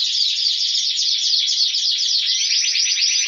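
Caged birds chirp in a dense, continuous trill of rapid high tweets, close and fairly loud, with no talking.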